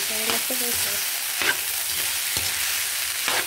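Leftover rice is stir-fried in a pan with seasoning, a steady sizzle broken by repeated scraping strokes of a spatula against the pan, close and clear.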